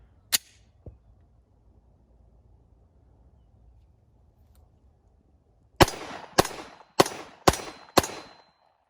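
A Smith & Wesson M&P pistol fires five sharp, loud shots at a quick, even pace, close to the listener. An earlier single crack comes before a quiet pause.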